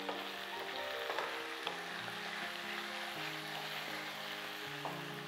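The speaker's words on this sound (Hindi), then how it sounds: "अब मसाले के अंदर भुनाई हो रही है।" Korma masala roasts in a pan for a Nawabi korma, a continuous soft sizzle with occasional light scrapes and clinks of stirring, fairly quiet and steady throughout.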